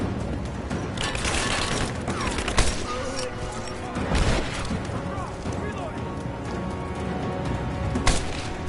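Explosions and gunfire from a Rise of the Tomb Raider firefight: a dense, continuous barrage with several loud blasts and crashes, while voices shout over the battle.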